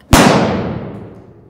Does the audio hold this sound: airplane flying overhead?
no